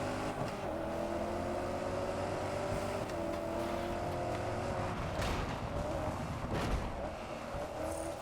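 A Range Rover races off-road in the video game Solar Crown, its engine a steady droning roar that rises and falls in pitch as it shifts and accelerates, with brief bursts of noise throughout.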